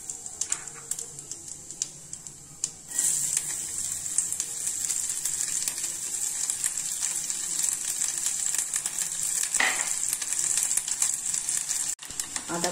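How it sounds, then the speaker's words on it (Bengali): Cumin seeds tempering in hot oil, with a dense, bright sizzle that bursts louder after a few seconds and stays steady, close, with occasional stirring. "জিরে ফোড়ন দিলাম"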